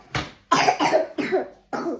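A series of four sharp, close coughs from a girl with a cold, each a short explosive burst, spaced roughly half a second apart.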